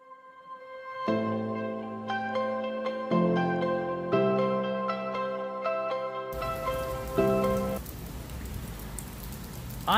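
Steady rain hisses loudly and close by in a broad wash, taking over suddenly after several seconds of sustained musical tones.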